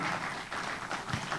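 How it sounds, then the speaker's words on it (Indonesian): Audience applause at the opening session of SILAKNAS IX in Banten, a steady wash of many hands clapping, fairly quiet and brief, with no voices over it. "tepuk tangan untuk Anda semua"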